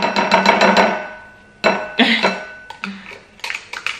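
Hand sanitizer ingredients poured and stirred in a bowl, with bright clinks and taps of a utensil against the bowl in a quick rhythmic run, then scattered louder knocks, close and clear.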